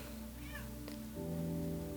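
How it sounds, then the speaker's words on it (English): A cat meows at a door, a brief faint cry over a steady background hum with a low indoor rumble. "My cat is meowing at the door."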